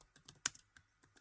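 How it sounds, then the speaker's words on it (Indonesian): Computer keyboard typing while entering code in MATLAB or Python, quick irregular clicks of separate keystrokes, close and fairly quiet, with no talk. "kita akan mengetik"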